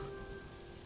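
Steady rain falls at night, a dense continuous hiss of drops on surfaces with an even, unbroken texture throughout.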